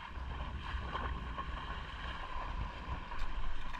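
A small fishing boat out on the water near an island, with a steady low rumble and wash that stays moderately loud and builds slightly toward the end.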